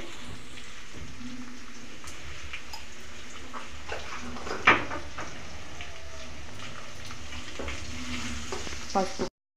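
Onion and ginger garlic paste fry in a pan for an egg curry, a constant close sizzle with scattered spoon scrapes and one sharper clink near the middle, running about nine seconds before cutting off.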